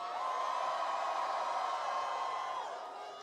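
A festival crowd at a Rolling Loud California rap concert roars in a steady, loud wash of cheering that holds for about three seconds before easing slightly at the end.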